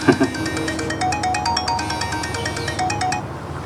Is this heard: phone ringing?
yes